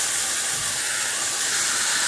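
Potatoes hiss steadily in a hot pan of fish oil, a broad, even sizzling wash that holds constant and close with no speech or other sounds.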